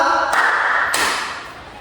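A group of students in a classroom claps twice in unison on the teacher's cue. The two sharp, crisp bursts come about half a second apart and ring briefly over a quiet room.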